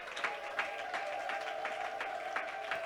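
A church congregation applauds Jesus with quiet, rhythmic clapping that carries on steadily across a few seconds, soft and slightly distant.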